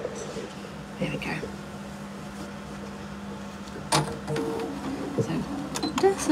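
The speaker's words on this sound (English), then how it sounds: "Just a couple of little back stitches there." A sewing machine runs a few short back stitches on a Christmas tree pouch, a low steady motor hum lasting a few seconds amid small clicks and handling noises, with a person talking over it.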